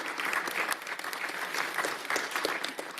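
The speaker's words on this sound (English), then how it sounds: "Let's give them a round of applause for also being here." Applause rises from the audience at an Atlanta City Council regular meeting, welcoming the Atlanta Community Food Bank: steady, dense clapping from a roomful of people that carries evenly through the whole stretch without a break.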